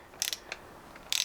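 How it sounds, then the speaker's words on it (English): Short metallic ratcheting clicks as ignition coils are unbolted on a motorcycle during a cafe scrambler build, a few quick bursts, the last one a rapid run of clicks, close and dry with no talking. "So, just unbolting these coils, so we need to get these out of the way."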